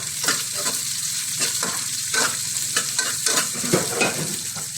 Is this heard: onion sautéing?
yes